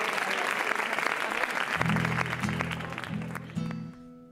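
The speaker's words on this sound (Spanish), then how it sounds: "Un aplauso para Elías." Audience applause at an illustrated concert with Elías Taño at Baba Kamo in 2021, a steady wash of clapping that carries on under a few sustained guitar-like tones before fading out.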